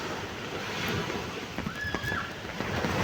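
Ocean surf rolling onto a beach on an overcast day, a broad continuous wash of waves mixed with wind buffeting the microphone, with a faint brief tone partway through.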